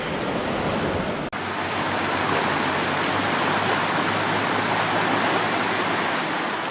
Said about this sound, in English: The river's pretty fast flowing here.